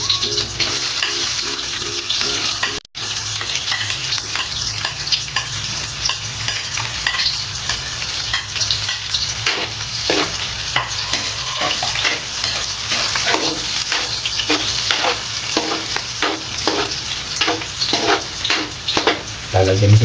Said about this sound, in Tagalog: uunahin ko natin ilagay ang bawang. Ituloy po natin ang sibuyas.